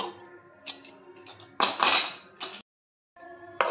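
A pressure cooker lid is opened after cooking rice pudding, with a few close metallic clanks and clatters, separated by short pauses.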